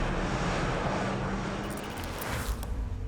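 Engines of a C-5M Super Galaxy military transport aircraft roar as a broad, steady drone, loud and continuous throughout, with a slight shift in tone partway through and no voices.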